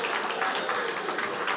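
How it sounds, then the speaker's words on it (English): Dense, sustained audience applause at the Irish National Oyster Opening Competition, many hands clapping together in a loud, even wash with no pause, heard alone without talking. "Round of applause."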